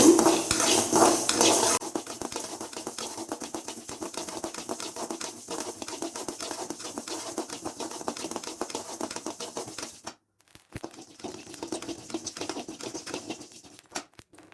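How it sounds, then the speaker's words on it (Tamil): Dry rice grains pop and crackle while being roasted in a pan over medium heat, a rapid, dense patter of tiny clicks with a louder burst at the start and a short lull near the end. "மிதமான தீயிலே வறுத்துக்கோங்க. அப்போ தான் காந்தாமல் நல்லா அரிசி பொரியும்."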